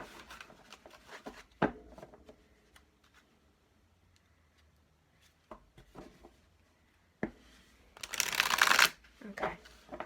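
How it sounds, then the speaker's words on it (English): Tarot cards shuffled by hand during a reading: soft, scattered handling taps and rustles give way near the end to a loud, dense riffling burst lasting about a second, close up. "I shuffle until I feel guided to stop."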